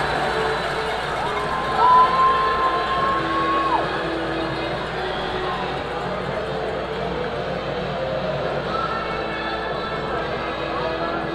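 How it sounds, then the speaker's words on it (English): Thunderbirds fans at the Annex, a hockey arena, give a broad, moderate crowd roar of applause and cheering that swells briefly early on, then settles into steady murmur under ongoing commentary, with a whistle-like tone heard briefly. "Much to the applause of the Thunderbirds faithful here at the Annex"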